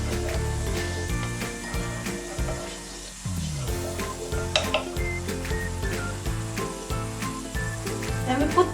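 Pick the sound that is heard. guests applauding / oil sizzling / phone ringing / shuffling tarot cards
oil sizzling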